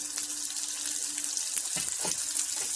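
Chopped onion dropped into hot oil, hissing in a steady bright sizzle with a few soft stirring scrapes and splutters toward the end, no talking.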